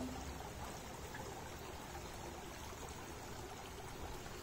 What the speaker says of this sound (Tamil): ரிவர் ஃப்ளோ ஆகி வந்துட்டு இருக்கு